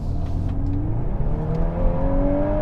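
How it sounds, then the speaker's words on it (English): A 2023 Volkswagen Golf R engine revs and climbs in pitch, a steady rising whine and growl heard from inside the car, loud and continuous. "you have this engine that you can hear too"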